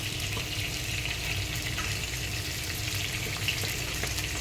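Onions fry with salt in a clay pot, giving a dense, constant hiss and crackle at close range, with faint scraping from stirring; no one speaks.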